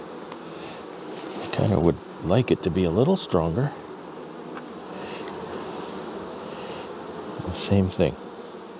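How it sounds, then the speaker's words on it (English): Bees buzz constantly around an open hive box, a dense close hum with a few louder insects passing near, while someone talks over it in short stretches. "you wouldn't call this a box of bees, would you?"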